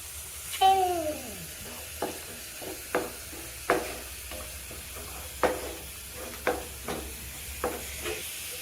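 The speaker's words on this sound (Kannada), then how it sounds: "ಈಗ ರುಬ್ಬಿಟ್ಕೊಂಡಿರೋ ಪೇಸ್ಟ್ನ ಹಾಕ್ಕೊಳ್ತಾ ಇದ್ದೀನಿ, ಟೊಮೊಟೊ ಮತ್ತು ಗೋಡಂಬಿದು" Ground tomato and cashew paste hits a hot pan with a loud sizzle, then a spoon scrapes and stirs in a steady rhythm of sharp knocks over a continuous frying hiss.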